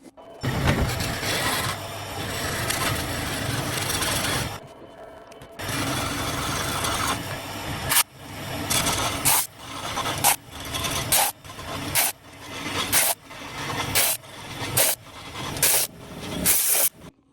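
Wood lathe hollowing a burl with a large bit, first a long continuous rasping cut, a short pause, then a run of repeated short grinding bursts in a steady rhythm, loud and close.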